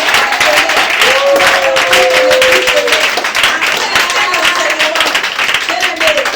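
A church congregation claps and cheers in praise of Jesus, steady, dense applause filling the room for several seconds, with a voice calling out over it.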